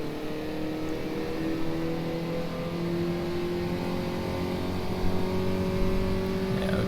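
A race car engine in the rFactor 2 racing game holds a steady, loud drone near top speed on a straight while drafting, its pitch climbing slowly and continuously with a faint second engine tone alongside.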